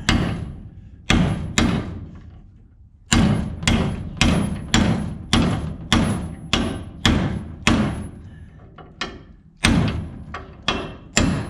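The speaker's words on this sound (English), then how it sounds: "as long as it's close, then we pound that sucker home" A bushing is hammered into a John Deere 300 corn picker husking bed: about a dozen loud, heavy metallic blows in a steady rhythm, each ringing briefly, close by and with no talking.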